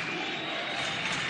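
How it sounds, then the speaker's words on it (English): Basketball arena crowd at an Oklahoma vs Florida college game, a dense, continuous roar of cheering fans filling the space without letup. "Crowd is into it."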